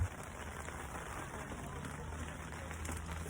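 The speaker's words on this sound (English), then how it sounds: "it's like raining right now" Steady rain during a camping trip, an even hiss of falling drops running throughout at a moderate level, with a thunderstorm approaching in cold weather.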